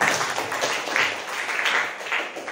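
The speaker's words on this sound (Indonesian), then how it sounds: "Beri tepuk tangan" Students clapping in a civics classroom, a short, somewhat uneven burst of applause with rhythmic pulses, close and fairly lively.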